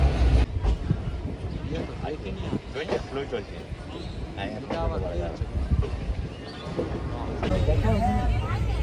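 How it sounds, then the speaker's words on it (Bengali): Ganadevta Express train heard from a general-class window on the Howrah to Rampurhat line, with a loud steady rumble of rolling wheels and a rhythmic clatter under continuous passenger chatter. "তাই জানলা দিয়েই ট্রেনটা ছাড়লো"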